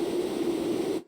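A synthesized white-noise riser with a resonant filter tuned to an F note sounds as a steady hissing wash with a ringing tonal band, loud and sustained alone before cutting off abruptly near the end.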